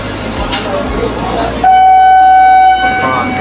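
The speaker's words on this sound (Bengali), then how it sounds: "আমাদের ট্রেন এখন এসে পৌঁছেছে কোন্নগর।" A local train pulls into Konnagar station, its horn sounding one clear, loud, sustained blast of about a second over a low rolling rumble and background noise.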